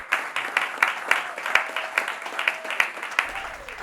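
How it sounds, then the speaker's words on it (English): A studio audience gives a short burst of applause, with rhythmic clapping spread across the room over a few seconds and a faint voice underneath. "if they would indulge in a little bit of applause"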